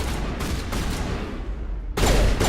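Gunfire in Mass Effect 1 Legendary Edition, with several quick muffled shots early on, a quieter stretch, then a sudden loud burst near the end.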